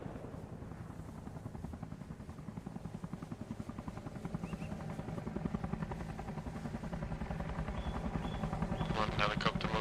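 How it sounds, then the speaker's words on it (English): A single helicopter flies in from the east, its rotor thumping as a steady, continuous beat that grows slightly louder toward the end, with a voice talking over it. "One helicopter moving it from east."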